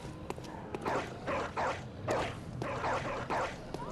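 Hounds in a dark fantasy action game give repeated, rhythmic yapping barks and yips in several bursts over steady game ambience, fairly close and moderately loud.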